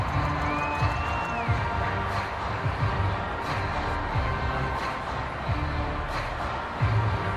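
A stadium crowd in the Madden 22 video game's Super Bowl 56 matchup of the Rams and Bengals cheers for the defense, a sustained, fairly distant roar with scattered shouts and whoops.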